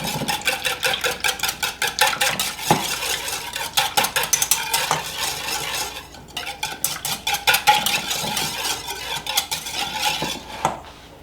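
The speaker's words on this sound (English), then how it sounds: "I'm going to whisk these together" Rapid rhythmic clinking of a whisk beating cornbread ingredients together in a bowl, brisk metallic strokes in steady bursts with a brief pause near the middle, close and fairly loud.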